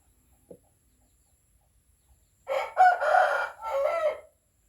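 A rooster kept by a Thai fowl breeder crows once, close and loud, a long multi-part call after a few seconds of near silence.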